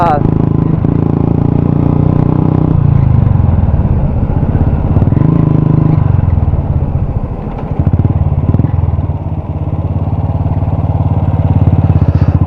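A Royal Enfield Classic 350 motorcycle with a broken handlebar from an accident runs close by, its single-cylinder engine thumping steadily with a couple of revs rising and falling, while someone talks over it.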